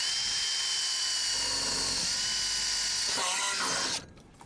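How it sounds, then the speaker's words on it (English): Loud, steady whine of a power drill grinding through a motorhome roof for about four seconds, then cutting off abruptly into near quiet. "Drilling right through the roof."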